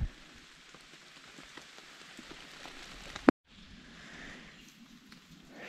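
Steady rain pattering on leaves and surfaces in a forest beside an old shelter, with a sharp knock near the middle and a brief near-silent gap before the rainfall resumes.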